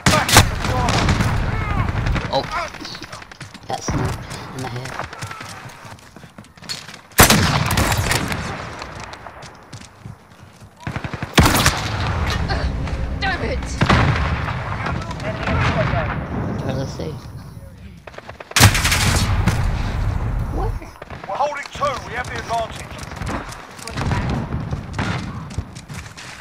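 Gunfire from the video game Call of Duty Modern Warfare on a shoot house map: several sharp, loud bursts stand out over dense, continuous game noise and a talking voice.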